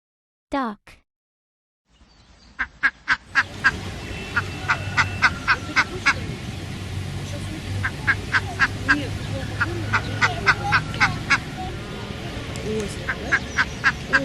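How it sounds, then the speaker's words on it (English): Duck quacking repeatedly over a busy outdoor background of water and bird noise, the calls coming in uneven bursts, fairly close and clear above the ambience. "Duck."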